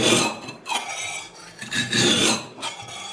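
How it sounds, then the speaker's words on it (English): A hand file scrapes along the blade of a pair of shears to sharpen it, producing repeated rasping strokes in an uneven rhythm, close and fairly loud, with no voices. "you just have to scrape it along there and you count how many times you do it"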